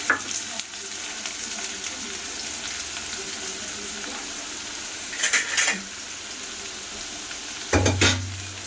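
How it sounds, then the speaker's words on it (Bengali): Onion dropped into hot oil in a home kitchen, a continuous loud crackling sizzle with brief clattering bursts of utensils and pans, up close with no voices. "এদিকে আমার এই তেলটাও গরম হয়ে গেছে, পেঁয়াজটা দিয়ে দিই।"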